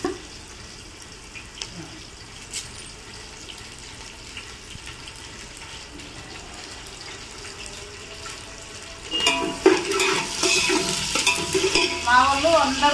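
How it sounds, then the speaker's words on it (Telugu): Onions and cumin frying in oil in a pot while being stirred, a soft steady sizzle with scraping that grows louder and busier toward the end. "ఉల్లిగడ్డలు వేసుకున్నాం, కలుపుకుంటున్నాం."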